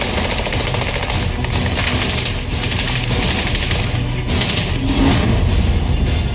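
Heavy sustained gunfire during a militant attack on a highway in Pampore, Kashmir: dense overlapping bursts of shots rolling continuously, loud and reverberant, with a few sharper reports standing out near the end.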